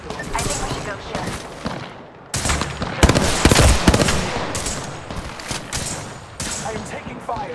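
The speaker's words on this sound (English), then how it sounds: "I am taking fire." Incoming gunfire in the Apex Legends battle royale, rapid bursts of shots crackling in close succession with a heavy surge of impacts near the middle, loud and dense throughout, with game effects mixed in.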